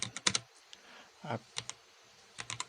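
Keys clatter on a computer keyboard during Python coding, in short close bursts of crisp clicks separated by brief pauses.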